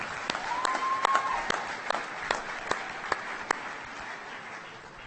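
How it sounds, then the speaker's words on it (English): Audience applause at an annual awards event, a thin spread of clapping with a few sharp, distinct claps standing out, moderately loud and fading slightly toward the end. "Give Ryan a big applause."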